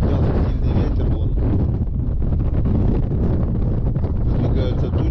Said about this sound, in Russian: Поднялся сильный ветер, вон.